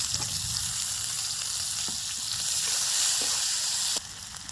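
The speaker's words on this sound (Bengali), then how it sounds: "এবার এর ভিতরে দিয়ে দিচ্ছি কুচিয়ে রাখা পেঁয়াজ।" Chopped onions go into hot oil where cashews and raisins are already frying, making a steady close sizzle with a few faint stirring clicks for the whole stretch.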